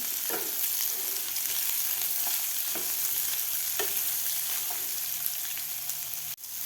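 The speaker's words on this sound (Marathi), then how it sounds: "थोडासा गुलाबी कलर होईपर्यंत आपल्याला हे कांदा परतून घ्यायचा आहे" Onions sautéing in a pan for veg Kolhapuri, a steady close sizzle with occasional stirring scrapes running throughout.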